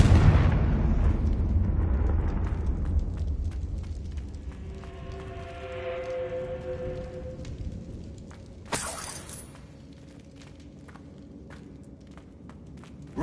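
Confringo fire spell blasts in Hogwarts Legacy on PS5, a loud rumbling explosion that decays into a tonal magical hum, then a sharp bright burst and quieter crackling debris, no voices.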